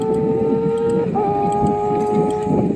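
A motorbike engine drones past on a windy mountain road in Quezon Province, a steady tonal hum that shifts pitch midway as it goes by, heard fairly close over wind noise with no talk.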